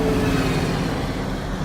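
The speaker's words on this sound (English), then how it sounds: "Get out of the way, bus." A bus rolls by nearby with a loud, steady low rumble of engine and road noise that eases a little toward the end, and no voices are heard.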